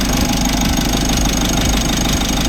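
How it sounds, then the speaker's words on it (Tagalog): Mitsubishi L300 Euro4 van engine idling with the aircon compressor engaged and pumping along with the engine's rotation, a steady close mechanical hum with a faint repeating knock. "kung mapapansin natin, bumabomba yung compressor"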